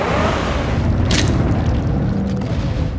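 Deep, distant boom from an explosion in Shadow of the Colossus, rolling low and broad through a steady rumbling ambience, with a brief burst of hiss near the middle and no voices.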